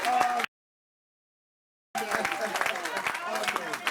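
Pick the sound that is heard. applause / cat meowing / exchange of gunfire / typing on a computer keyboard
applause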